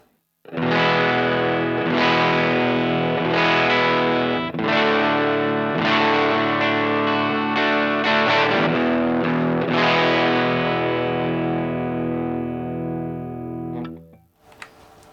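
Electric guitar played through an Aria Distortion pedal with every knob set at noon: a run of loud, thick distorted chords struck in steady succession, the last one left ringing and fading out.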